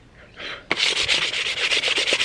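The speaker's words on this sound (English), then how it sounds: "Just gonna sand it off a little bit." A piece of wood with holes drilled in it is sanded by hand, giving a brief quiet rub and then a steady run of rhythmic scratchy strokes close to the microphone.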